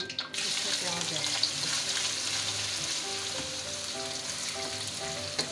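Potato keema and onion fry in a pan for a smoky barbecue-style dish, giving a steady soft sizzle with some stirring noises, heard close but fairly quiet.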